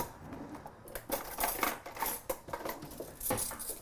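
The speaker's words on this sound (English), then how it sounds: "Which is the cutlery" Cutlery clinks and clatters in short, irregular bursts as it is picked up and set down, close and fairly quiet, with no one talking.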